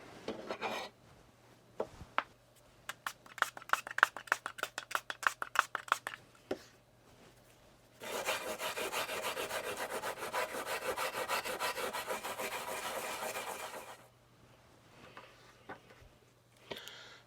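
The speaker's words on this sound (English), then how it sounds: "what this needs now is a good old scrub" Parts from an Amstrad PPC640 portable computer are scrubbed clean during a colour screen mod, first in quick separate rubbing strokes, then in a steady, harsh stretch of scrubbing lasting several seconds before it stops.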